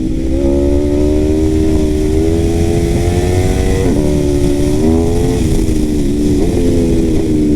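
A sport motorcycle engine, an Aprilia RSV4 of 217 hp, drones steadily and loudly throughout, its pitch rising and dipping slightly as the rider shifts and throttles, with wind rushing underneath.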